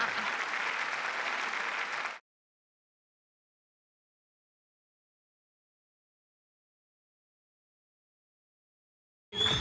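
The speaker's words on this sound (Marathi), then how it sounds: "टाळ्या वाजवूयात." Audience at a comedy show bursts into clapping for about two seconds, then stops dead into silence before a brief final flurry returns at the very end.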